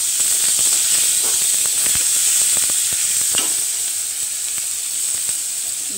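Tomatoes soften in a salted pan, a loud, constant hissing sizzle with steam and a few soft stirring taps underneath.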